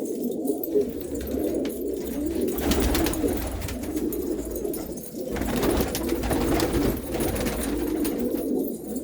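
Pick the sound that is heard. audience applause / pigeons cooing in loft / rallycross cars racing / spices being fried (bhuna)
pigeons cooing in loft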